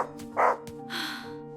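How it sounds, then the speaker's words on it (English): A dog barks once, sharp and close, followed by a softer drawn-out whine, set indoors by a closet. "I was about to give up when Biscuit started barking at the closet."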